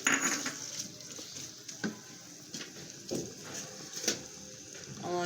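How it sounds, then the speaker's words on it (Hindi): Mushrooms tipped into a pan already holding a large onion while cooking French chicken: a few soft clatters and light knocks against the pan, quiet and close, with no talking. "ये मशरूम्स इसमें ऐड करने हैं।"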